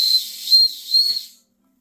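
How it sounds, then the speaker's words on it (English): A 130-year-old steam engine gives short shrill whistle blasts over a steady safety valve hiss, three close pulses before cutting off into silence. "Whistle."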